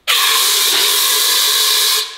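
A fire extinguisher blasts a loud, continuous hissing spray that starts abruptly, holds for about two seconds, then tails off.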